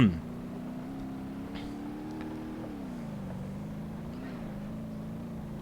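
A Bruckell LeGran car pulls away in the BeamNG.drive video game. Its engine gives a steady, moderate drone that holds its level, with small pitch rises and dips as it drives off.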